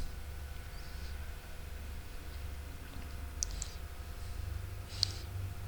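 A computer mouse clicking, heard as two soft, separate clicks a couple of seconds apart over a low steady room hum, with no voices.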